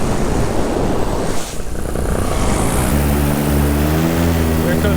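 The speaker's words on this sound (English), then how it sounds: "There comes that small airplane." A small propeller airplane flies past, heard from a paramotor in flight. Loud rushing wind and engine roar fill the clip, and a steady buzzing propeller drone with a clear pitch rises out of the noise in the second half.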